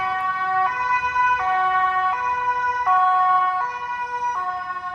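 A loud two-tone ambulance siren in Switzerland alternates steadily between high and low pitches, close and continuous, with no voices.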